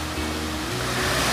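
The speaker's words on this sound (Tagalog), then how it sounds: "nakikinig ng ingay dahil sa ragasan ng tubig po mga kabayan sa maliit na batis" A small forest stream rushes over rocks, producing a steady broadband wash of flowing water, fairly soft and continuous with no voices.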